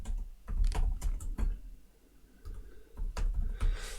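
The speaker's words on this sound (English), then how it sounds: "I'm just typing that out so our subscribers will know" Quick bursts of typing on a laptop keyboard, with clusters of close, crisp key clicks separated by short pauses and no voices.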